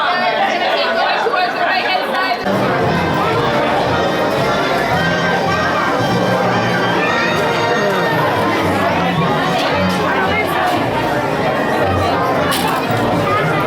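Dense crowd chatter fills a busy theme park at Muppet Vision 3D, a steady wash of many overlapping voices, close and loud, with children's shouts rising now and then.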